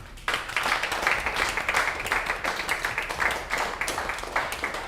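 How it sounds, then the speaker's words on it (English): An audience at a bake-off competition applauds a winning baking team, clapping starting suddenly and continuing steadily at moderate volume for several seconds. "please give a warm round of applause"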